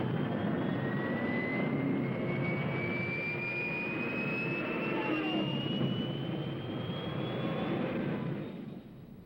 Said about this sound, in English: Rommel sends in Stuka dive bombers to blast the defenders from their emplacements